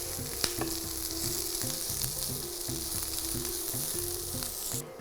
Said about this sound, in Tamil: நல்ல ஒரு கோல்டன் ப்ரௌன் ஆற வரைக்கும் நம்ம இதை வதக்க போகிறோம்.